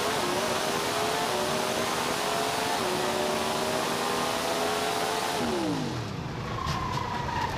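Onboard a Pro Stock drag race car, the Mega Bulk Fuels entry, the engine screams at high revs with rising pitch through several quick gear shifts, then drops off sharply as the run ends; loud and close.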